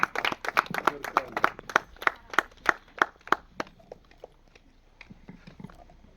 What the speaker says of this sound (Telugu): ఒకసారి చప్పట్లు కొట్టండి అందరూ